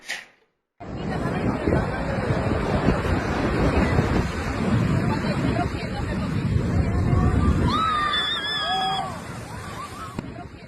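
Steady roar of surf with wind buffeting the microphone, waves rolling continuously, with faint voices and brief whistle-like tones near the end.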